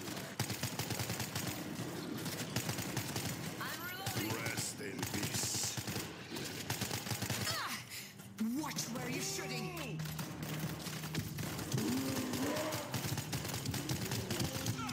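Sustained gunfire from the zombie shooter World War Z, bursts of shots running steadily through the whole stretch under near-constant talk, with other in-game effects mixed in.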